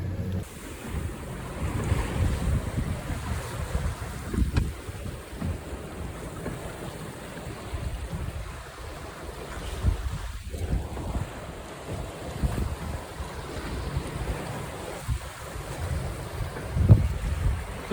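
A small trailer sailboat cruising at about 8 knots through waves, with constant wind buffeting and water rushing and splashing against the hull, close and loud throughout, no voices.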